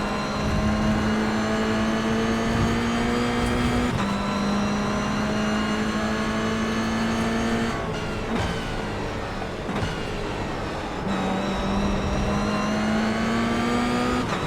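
A Toyota GR86 race car on track at Okayama circuit, its engine loud and close as it climbs through the revs, with sharp pauses for several gear changes before it pulls hard again.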